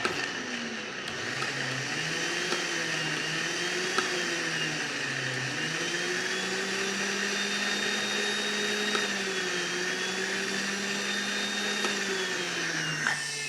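An electric grinder whirs through cooked lentils for haleem, its motor whining steadily with pitch dipping and rising as the thick mixture loads it, sustained for the whole stretch without speech.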